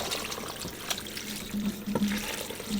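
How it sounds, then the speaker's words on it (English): Water pours and trickles into a pot of chitterlings on the stove, a close, steady liquid splashing with a few brief gurgles. "I'm gonna add a little bit more water because I want some more liquid"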